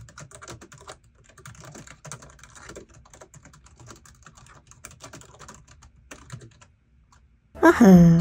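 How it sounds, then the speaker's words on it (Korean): Steady, rapid typing on a KF8700 pantograph keyboard with soft, shallow key clicks for about seven seconds, followed by a brief burst of louder noise at the end. "그 다음 키보드, 우선 타건해 보겠습니다."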